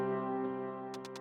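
Piano patch in Ableton with tone and strength macros turned down holds a muted, dull sustained chord, quiet and close, with a few faint clicky ticks near the end and no talk.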